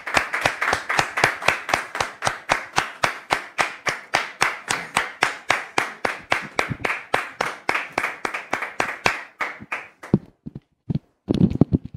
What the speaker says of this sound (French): Public, merci de recevoir Dame Florette sous vos applaudissements